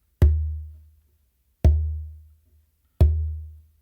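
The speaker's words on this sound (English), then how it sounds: "I actually start this whole pattern with a bass with my dominant hand in the middle of the drum" Three deep bass strokes struck with the dominant hand in the middle of a wooden bingba drum, each a sharp attack with a long booming low decay, evenly spaced and played alone.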